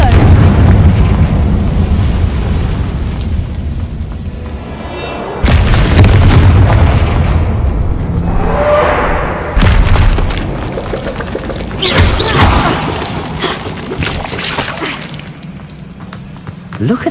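A Confringo fire spell is cast in the video game Hogwarts Legacy, setting off heavy booming blasts with shattering, splintering debris. Several big bursts follow one another at close range, with a voice speaking at points.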